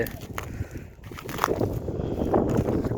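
Strong gusts buffet a microphone outdoors in a farming village, a steady broadband rumble of wind noise continuing throughout with faint activity behind it.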